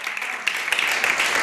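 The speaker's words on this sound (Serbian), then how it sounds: "zašto vam je drugi aplauz jači nego prvi?" A studio audience applauds on the Serbian TV Grand music show Pesmom za dušu. The clapping is a dense, steady patter at close range that lasts only a moment.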